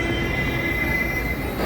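A metro train runs at a Hyderabad metro station, giving a steady, loud rumble with a thin high whine of wheels on rail, continuous throughout with no voices.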